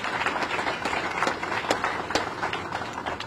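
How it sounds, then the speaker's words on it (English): An audience at a groundbreaking event for the West Side Market transformation applauds an investor, dense steady clapping from a crowd at moderate distance, sustained throughout with no talk over it. "please give a round of applause to PNC"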